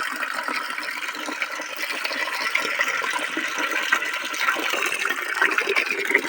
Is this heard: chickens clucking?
no